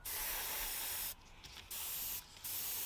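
An airbrush powered by a compressor sprays straight isopropyl alcohol in steady, loud hissing bursts, with two brief pauses between sprays.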